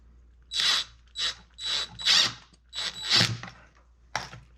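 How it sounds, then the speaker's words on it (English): A screw is driven in beside a sculpture armature to anchor it to its base, about six ratcheting bursts of clicking with short pauses between, close and moderately loud, no voices. "To anchor it, I put a screw right next to the armature"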